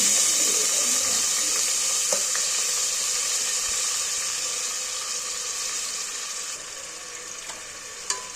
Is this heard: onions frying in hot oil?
yes